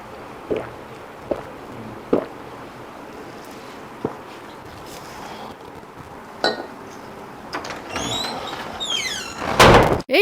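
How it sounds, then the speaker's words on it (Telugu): A door slides and thuds shut amid scattered knocks and clinks, ending in a louder rattling bang near the end. "ఎందుకు డోర్ క్లోజ్ చేస్తున్నారు?"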